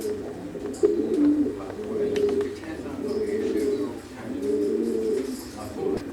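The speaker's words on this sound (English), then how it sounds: "The 22 families of pigeons housed here are kept in individual" Pigeons coo steadily in their individual breeding pens at the Ponderosa Stud in Weymouth, a layered chorus of low, rolling calls from several birds at close to middle distance, with indoor background hum beneath.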